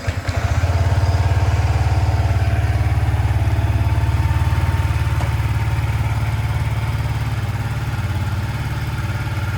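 A Yamaha XSR125 Legacy motorcycle with 1707 miles starts and settles into a steady, quiet single-cylinder idle, close and continuous with a fine mechanical clatter.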